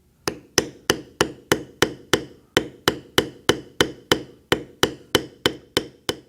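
A large beveler tool is struck repeatedly with a mallet along the border cuts of a leather belt, about twenty sharp close taps in a steady, even rhythm.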